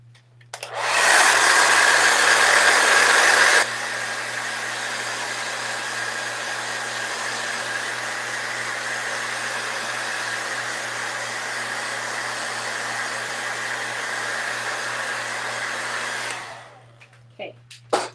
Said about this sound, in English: if you take a hair dryer to it, it's going to pop those bubbles